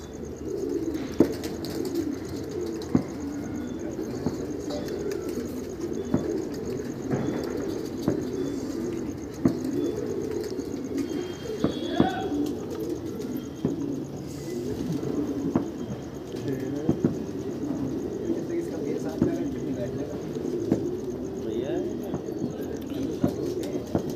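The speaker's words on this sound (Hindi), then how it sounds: "ये भी पंजाबी कबूतर है जी" Punjabi pigeons coo in a steady low rumble throughout, with occasional wing flaps and faint chirps over a constant outdoor background.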